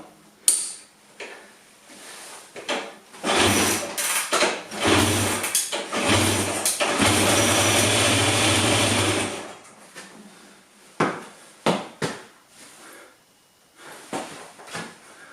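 An MV motorcycle engine with choke and twin carburetors catches and runs rough for several seconds after sputtering attempts, then dies back to scattered mechanical clicks and knocks, close by.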